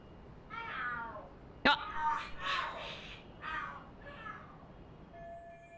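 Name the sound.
cats fighting and screeching in the video game Lost Judgment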